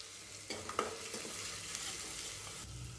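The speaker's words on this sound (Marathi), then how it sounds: "छान अशी फोडणी बसलेली आहे" Spice tempering with asafoetida, turmeric and red chilli powder sizzles in hot oil in a pan, a steady close hiss with a few stirring scrapes and no talking.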